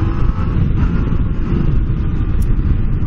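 Yamaha MT-09 Tracer motorcycle on its stock exhaust, a loud, steady engine rumble held at constant revs throughout, close to the microphone with no talking.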